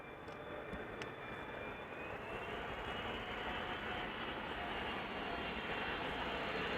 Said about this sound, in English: 777-300 ER arriving from Vancouver.